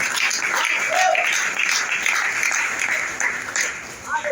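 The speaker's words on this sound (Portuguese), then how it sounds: "Aplauda a palavra, aplauda a palavra." A worship congregation claps steadily in a church service, dense sustained applause that thins slightly toward the end, with faint voices under it.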